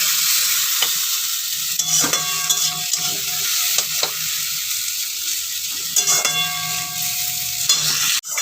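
Potatoes fry in a pan, a constant crackling sizzle with several sharper knocks and scrapes of stirring spread through it, close and moderately loud, with no speech.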